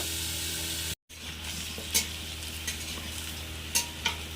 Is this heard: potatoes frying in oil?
yes